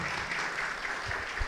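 Audience at a book presentation for Postales de mi Pueblo II applauds, a short, even burst of clapping heard alone for about a second and a half.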